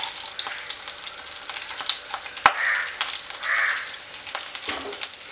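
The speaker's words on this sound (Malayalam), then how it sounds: "ഇതെല്ലാം ചേർത്തൊന്ന് വഴറ്റി ഇതിൻ്റെ പച്ചമണം ഒന്ന് മാറുന്നവരെ ഒന്ന് വഴറ്റി കൊടുക്കണം" Ginger and garlic sautéing in a hot pan for a Kerala-style ladies finger (okra) curry, a steady close sizzle with occasional stirring scrapes and brief clinks, no voices.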